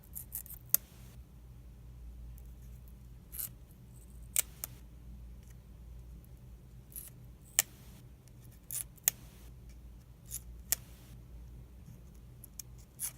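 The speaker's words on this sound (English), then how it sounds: "I go ahead and I cut off the thread" Scissors snip through the binding thread of a 1954 book, giving sharp isolated clicks spread irregularly over a quiet room hum, with no talking.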